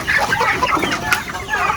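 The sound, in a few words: chickens clucking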